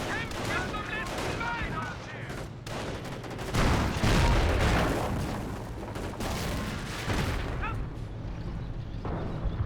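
A Calliope rocket barrage pounds the battlefield in Company of Heroes 1, a sustained chaotic wash of rapid launches, blasts and gunfire building into louder booming impacts, with a voice faintly under the din.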